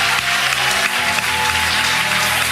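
A church congregation at an evangelistic youth service applauding together, a loud, dense, continuous wash of clapping that fills the room and holds steady throughout.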